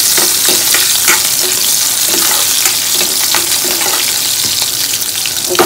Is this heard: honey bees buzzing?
no